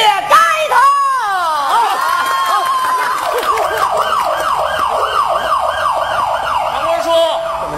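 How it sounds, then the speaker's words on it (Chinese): A police car siren arrives at a village wedding in a comedy sketch performed at a Liaoning Spring Festival gala, wailing loud and near in repeated rising and falling sweeps over a background crowd murmur. "来辆警车。"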